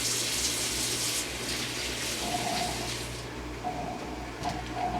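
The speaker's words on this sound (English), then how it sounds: "You need to wash your hands with some soap, maybe some dish soap," Steady rush of running tap water over hands being washed with soap, close and continuous, with faint splashing changes as the hands move under the stream.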